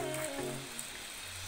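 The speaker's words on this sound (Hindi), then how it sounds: "बारिश बारिश कल से बारिश हो रही है लगातार" Steady rain falls continuously in a hill area during cold weather, a dense, even wash of patter with no voices.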